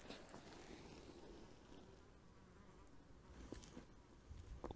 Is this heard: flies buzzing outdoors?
yes